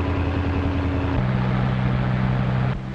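A small yellow touring car drives north on Highway 61 in a 1936 film, a steady loud engine drone with road noise that shifts pitch partway through and drops slightly near the end.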